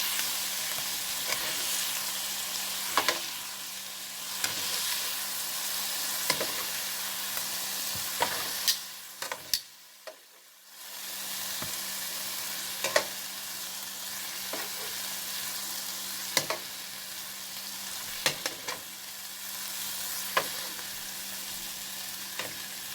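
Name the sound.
oxtails browning in a frying pan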